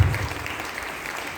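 A church congregation claps loudly, with many hands in a continuous, dense burst of applause that fills the whole short moment.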